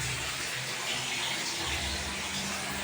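A hotel room shower runs steadily during a staycation in Pangasinan, a constant broadband hiss of water that stays even from start to finish, with no talking.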